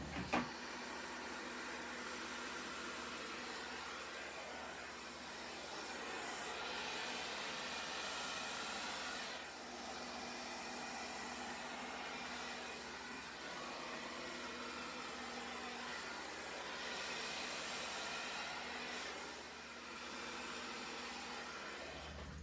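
A hair dryer blows copper and blue paint across a small 12x12 canvas in a Dutch pour, a steady, fairly quiet whooshing roar that swells and eases as the airflow shifts across the surface.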